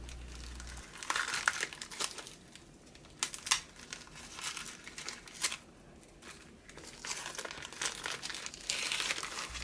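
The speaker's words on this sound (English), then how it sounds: "Some more careful unwrapping." Close, careful unwrapping of Dune Spice Opera packaging, with plastic and paper crinkling and rustling in uneven bursts and occasional sharper crackles.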